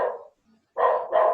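A pet dog barks, one short bark followed after a pause by two louder, close barks in quick succession, heard alone.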